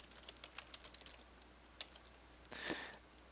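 Quick, faint clicks of typing on a computer keyboard come in short bursts, close and quiet, with no talking.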